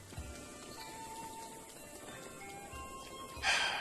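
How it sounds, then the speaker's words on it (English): Soft, steady rainfall hisses in the Zelda Breath of the Wild game world, faint and even, with a few low thuds and a brief brighter burst near the end. "It doesn't even say rain on the weather indicator. Why is it raining now?"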